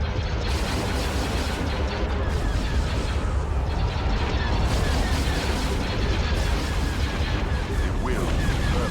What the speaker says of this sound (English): Look at all those missiles.